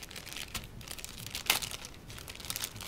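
Packaging from a parcel shipped from China crinkles and tears in short irregular bursts as it is opened up close, with one sharper rip partway through.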